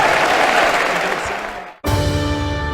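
Church congregation applauding, a broad wash of clapping that gradually fades and stops abruptly, then a cut to a different steady sound.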